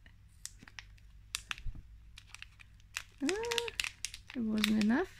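Scissors cut open the plastic packaging of Super Mario erasers, with scattered crinkles, snips and clicks close by, and a few brief vocal sounds mixed in.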